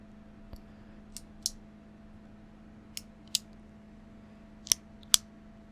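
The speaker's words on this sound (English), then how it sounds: "Listen to that clicking sound." A Zebra Z Grip ballpoint pen clicked again and again: sharp, isolated clicks spaced irregularly over a quiet background with a low steady hum, up close and alone.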